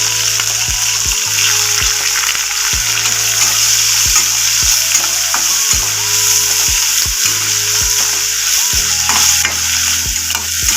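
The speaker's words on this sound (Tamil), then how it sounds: "வெங்காயம் நல்லா வதங்கிட்டோம்." Two finely chopped onions fry in a pan with cumin seeds, dried red chillies and curry leaves, giving a loud, continuous sizzle with repeated stirring scrapes and no voice.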